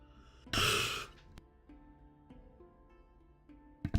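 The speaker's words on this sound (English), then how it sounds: "I just had to sneak a yawn in there" A single drawn-out yawn, a loud breathy exhale lasting about half a second up close, followed by quiet small mouth sounds and faint clicks.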